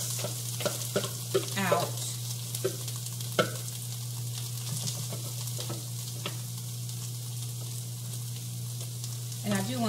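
Cauliflower rice frying in hot canola oil in a pan, a continuous crackling sizzle with scraping and stirring bursts, while someone talks briefly between the sounds.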